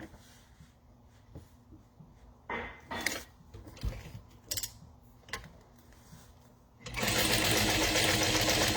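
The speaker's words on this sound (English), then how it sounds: "She top stitches on the bottom, so I'm going to do that as well." A sewing machine top stitches the bottom edge of a Boon wallet, sounding first as a few short bursts of stitching between pauses, then as a loud steady run over the last two seconds.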